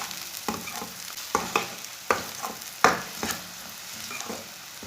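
Onion and garlic sizzling and frying in a pan, with repeated scraping stirs at a steady pace, close and fairly loud, no talking.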